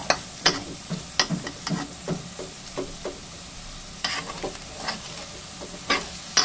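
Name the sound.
ground pork and vegetables being stirred in pan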